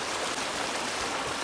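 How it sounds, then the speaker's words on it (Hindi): Fast-flowing rainwater rushing in a village stream in Mirpur, Azad Kashmir, after days of rain, heard as a steady, close, broadband roar of water with no talking. "वाह कितना तेज़ पानी है, बहुत तेज़ पानी है इधर।"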